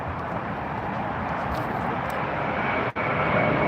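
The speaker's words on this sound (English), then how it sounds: "looks like that's the Dreamliner" A Boeing 787 Dreamliner at LAX roars steadily and loudly nearby, a continuous broadband engine rush that holds level with one brief dip near the end.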